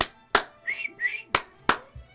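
Whistling in the video game Dragon Quest XI S, two rising whistled notes between sharp percussive claps, close and fairly loud, with no talk.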